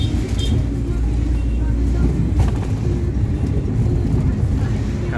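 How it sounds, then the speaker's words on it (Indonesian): A bus passes on a mountain road at night, a loud low engine rumble that swells and rolls by close at hand while someone talks over it. "Ini ada mobil bus lewat."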